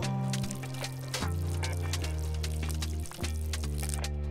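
Water poured onto plants in the Schedule 1 farming video game, a steady liquid rush sitting under loud sustained background music that dominates throughout.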